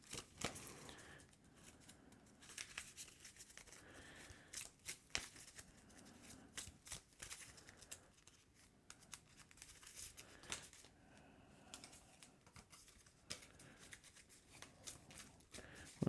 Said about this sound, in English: For Miles, I gotta grab the top card of the encounter deck and shuffle this up